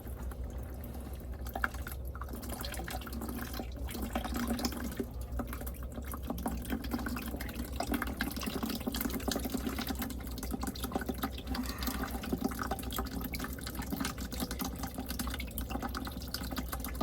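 Water draining from the spout of a Carrier water source heat pump that is not cooling, a steady trickling pour with faint drips running continuously and close by, without speech.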